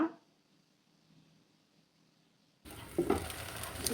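Two dried red chilies drop into hot oil for a taro and pea curry, bursting into a loud, crackling sizzle after a quiet moment, close and alone.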